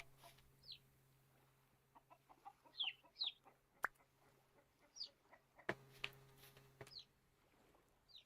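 Chickens in the farming video game Vintage Story cluck and squawk in short, scattered bursts over a quiet, steady background hum, with a few sharp clicks in between.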